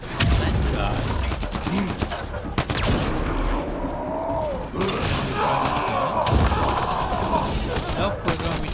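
Rapid bursts of gunfire in Mass Effect Andromeda, sharp close shots and automatic volleys crackling throughout, with a voice talking over the shooting.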